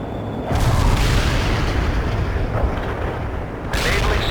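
Incoming artillery shells explode in the military strategy game World in Conflict, a dense, continuous rumble of heavy booms and blasts that swells and cuts off abruptly near the end.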